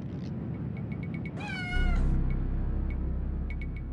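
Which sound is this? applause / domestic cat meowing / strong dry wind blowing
domestic cat meowing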